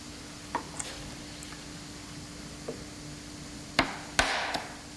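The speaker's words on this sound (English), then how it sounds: "I'm going to remove the pieces on top down to where the depth I cut with the chisel" A chisel chopping waste wood out of a joint, a few sharp hollow knocks spaced irregularly, the last ones louder and closer together, in a quiet workshop with a faint steady hum.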